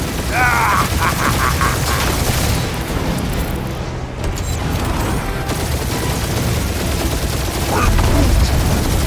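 Rapid bursts of gunfire and booming impacts in the Guardians of the Galaxy video game on PS5, loud and dense throughout with brief electronic chirps.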